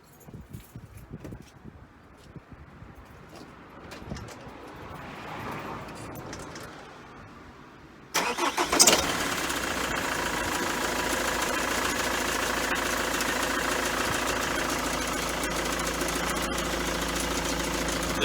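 A BMW X3 E83 2.0d diesel with a rattling front pulley: key and dashboard sounds, then the engine cranks and fires abruptly, settling into a steady, close, clattery idle.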